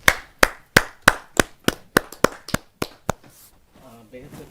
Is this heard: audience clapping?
yes